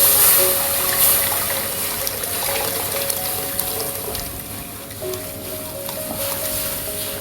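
Boiled mung dal with a cooked fish head is poured into a hot pan, a loud steady wet rush and sizzle that gradually eases over several seconds.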